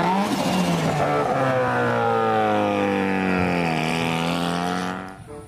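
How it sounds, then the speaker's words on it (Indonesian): A toy Lamborghini race car plays an electronic engine sound, a smooth sustained roar that revs and gradually shifts pitch, continuous and close before fading at the end. "mobil balap Lamborghini."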